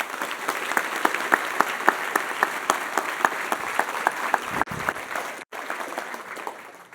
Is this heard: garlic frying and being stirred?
no